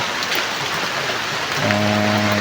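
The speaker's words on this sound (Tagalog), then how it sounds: "inabot na po kami ng ulan na naman. Ulan na po." Continuous hiss of rain falling outdoors, with a low steady hum starting partway through, likely an idling engine nearby.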